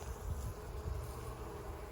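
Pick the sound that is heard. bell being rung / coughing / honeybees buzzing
honeybees buzzing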